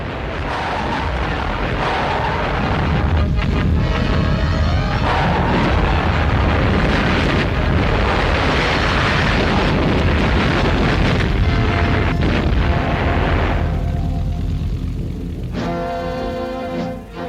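Massive Allied artillery bombardment during the final push toward Tunis in North Africa, a dense, continuous roar of overlapping booms and blasts, loud throughout and easing slightly near the end.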